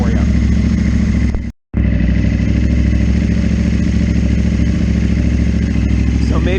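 A 2022 KTM Duke 890R motorcycle fitted with dual exhausts runs loud and close, a steady rumbling idle that cuts out briefly, then resumes with light throttle rises.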